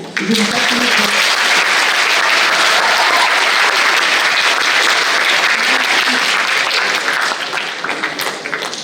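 Sustained audience applause fills a theatre at a lycée's drama and dance show, a dense, loud wash of clapping from many hands that holds steady for nearly nine seconds before easing slightly at the end.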